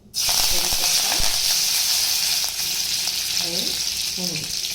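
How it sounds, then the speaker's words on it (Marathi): Steady loud sizzling of spices in hot oil, a constant frying hiss throughout, with a few faint voice sounds underneath. "फोडणी देऊया त्याच्यासाठी"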